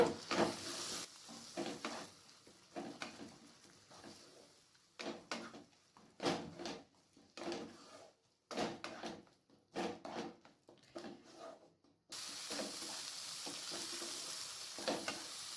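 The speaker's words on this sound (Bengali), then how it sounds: "টমেটো পেস্টটাকে মশলার সাথে ভালোভাবে কষানো হয়ে গেছে। দেখুন মশলা থেকে খুব সুন্দরভাবে তেল ছাড়তে শুরু করে দিয়েছে।" Tomato paste frying with spices in a pan for a mushroom dish, heard as close, intermittent bursts of sizzling and stirring scrapes, then a steady loud hiss of frying to the end.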